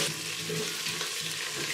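Ginger garlic paste frying in a pan gives a steady, dense hiss throughout, close and even in level with no talking.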